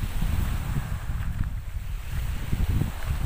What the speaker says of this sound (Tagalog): Medyo malakas lang yung hangin dahil nga po amihan ngayon.